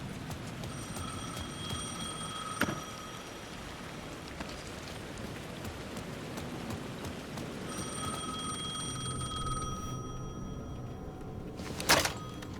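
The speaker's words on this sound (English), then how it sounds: "The phone was ringing again." A telephone rings in the video game Alan Wake 2 over steady rain, two bursts of shrill electronic trilling separated by a pause, with a couple of sharp knocks, no talking.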